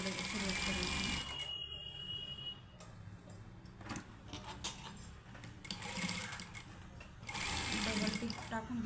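Sewing machine double-stitching a blouse sleeve, running in a steady whirr at the start and again near the end, with a quieter gap of handling noise between.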